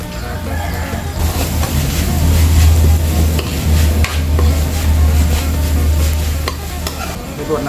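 Roselle leaves stir-fried with shrimp paste in a pan hiss and sizzle steadily, with a spatula scraping and clattering in irregular strokes throughout, loud and close.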